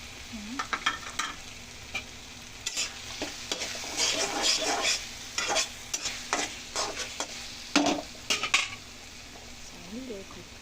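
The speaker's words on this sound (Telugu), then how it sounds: "ఇప్పుడు మనం కొంచెం అల్లం వెల్లుల్లి పేస్ట్ చేసుకొని తిప్పేద్దాం." Ginger garlic paste stirred in a frying pan, spatula scraping and clinking against the metal in repeated strokes over a soft sizzle, close and fairly quiet, no talking.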